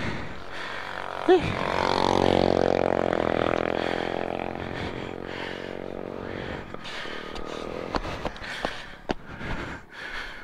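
A motorcycle on a bypass road near a twin-tunnel project in Davao City swells in loudly, its engine hum peaking close by and then fading away, followed by scattered short noises while people talk.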